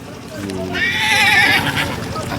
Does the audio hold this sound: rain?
no